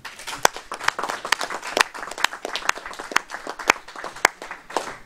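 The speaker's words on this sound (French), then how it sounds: "je propose qu'on l'applaudisse" Members of a French municipal council applaud a newly elected deputy mayor for commerce, a steady, moderately close patter of many hands clapping for several seconds without any talk.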